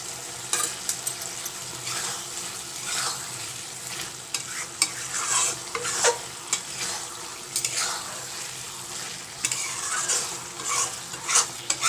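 Prawns go into raw jackfruit curry frying in a pan for a Bengali-style dish. A busy sizzle runs under repeated scraping and clinking strokes of a spatula as the mixture is stirred.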